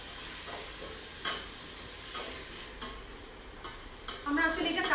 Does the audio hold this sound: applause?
no